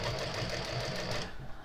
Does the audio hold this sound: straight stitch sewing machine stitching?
yes